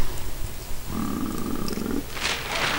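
Grunting book pages in the PC game Harry Potter and the Prisoner of Azkaban: low rumbling growl with a steady tonal hum over it, rising from about a second in, then a brighter rushing burst near the end.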